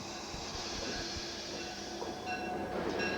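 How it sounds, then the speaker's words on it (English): Passenger train on a small Canadian branch line running steadily, with a continuous close rumble, rattling wheel noise and faint squealing tones throughout, no voices. "This train was only a small branch line, an 8-hour run that connected up with the main Trans-Canada line."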